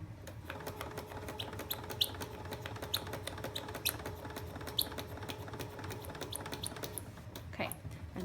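Sewing machine stitching an alphabet pillow, a quiet rapid mechanical chatter with steady rhythmic needle ticks and a faint motor hum, speeding up slightly as it runs along.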